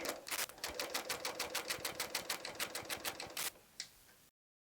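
A serger sewing machine stitching a placemat, a fast, even train of clattering stitches close by that slows, stops, and gives one last tap before silence.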